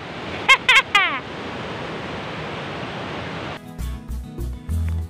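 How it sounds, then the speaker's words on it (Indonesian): A river flows steadily through the scenic Tanjung Sakti tourist park. The rushing water makes a broad, constant hiss, interrupted by a few brief sharp knocks near the start and some faint music toward the end. "ada sungai yang mengalir"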